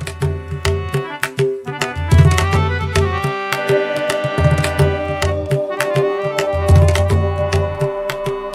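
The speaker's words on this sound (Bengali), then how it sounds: "সেই সঙ্গে তারা তিনজনই আবার শুনতে পেল হারমোনিয়াম আর তবলার শব্দ।" Harmonium and tabla playing together on a quiet night, sustained reedy chords held under steady rhythmic drum strokes, fairly loud and continuous throughout.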